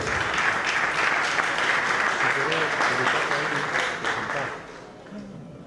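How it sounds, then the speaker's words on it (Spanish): Sustained auditorium applause at a cattle industry event welcomes an agronomist speaker, a dense steady wash of many hands clapping that fades near the end, with faint voices underneath. "ingeniero agrónomo Aníbal Pordomingo, a quien recibimos con un buen aplauso"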